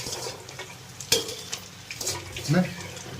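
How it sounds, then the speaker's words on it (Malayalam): Thin jackfruit chips fry in oil with a soft, steady bubbling hiss, broken by sharp clinks of a metal utensil against the pan and a faint voice. "അതുകൂടെ ഇട്ട് വറുത്തെടുക്കാൻ പോകും."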